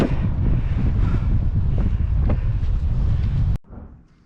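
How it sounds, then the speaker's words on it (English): Strong wind roars and buffets the microphone during a bike ride on an exposed route, a loud, continuous rumbling gust that cuts off abruptly near the end. "When I set off it was pretty nice, a bit windy, but that wind really kicked off"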